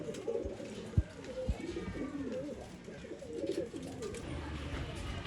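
Pigeons coo in low, soft, repeated rumbles at a bird stall where old-line pigeons are being sold in Bangalore, with some background chatter and a couple of brief knocks.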